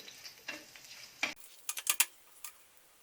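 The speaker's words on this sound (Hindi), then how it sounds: "जीरा क्रैकल होना शुरू हो गया।" Whole cumin seeds crackle in hot oil in a pan while dry urad dal is being made, giving sharp, scattered pops and snaps. A cluster of loud crackles comes near the middle over a faint sizzle, and no one speaks.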